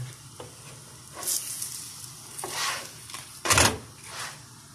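Hand-rolled buttered gözleme flatbread cooks in a pan with a soft, steady sizzle, broken by a few louder scraping and stirring bursts as it is moved about.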